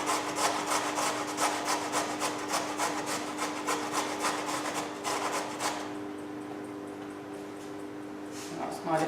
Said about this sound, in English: As you can see, it makes a lot of grated carrot from one.